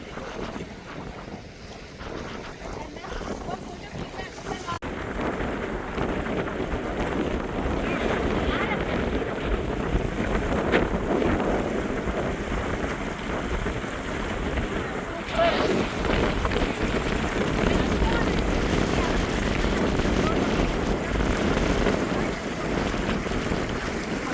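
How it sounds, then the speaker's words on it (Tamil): Strong wind sweeps across Vatadahosahalli lake, a continuous roar buffeting the microphone for the whole stretch, with a faint wash of water beneath. "காற்று ஆடி மாதத்தில் அடிச்சு நவுத்து காற்று நிற்கவே முடியல"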